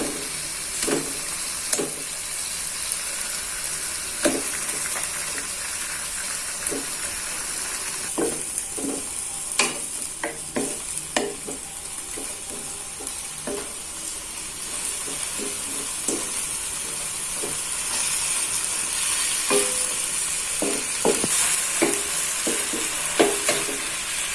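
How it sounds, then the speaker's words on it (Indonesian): Chicken pieces fry in a pan with kaffir lime leaves, a steady sizzling hiss running throughout, broken by frequent sharp scrapes and knocks of stirring, close and moderately loud with no talking. "Nah ini untuk ayamnya saya masukkan"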